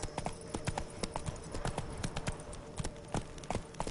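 A horse gallops in The Witcher video game, its hooves clip-clopping in a quick, steady rhythm, close and fairly quiet, with no other sound.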